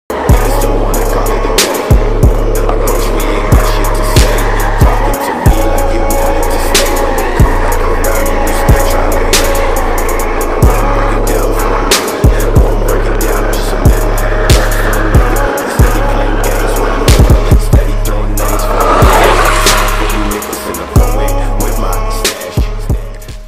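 Skateboard rolling on 80a and 82a 327 ATF wheels over icy pavement, a steady loud close rumble with repeated clacks and bumps from cracks, running almost without break throughout.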